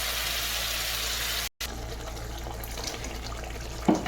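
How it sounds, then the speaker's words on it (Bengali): Water gushes steadily from a tap into a pan of potatoes set to boil, a close, even pour that breaks off briefly and resumes with a few small clinks. "অল্প জল দিয়ে আলুগুলো সেদ্ধ বসানো।"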